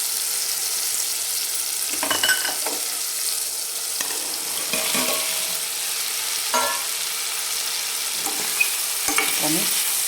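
Potato pieces and green chillies fry in a hot pan under a constant bright sizzle, with a spatula scraping and tossing them in several separate bursts, close and loud.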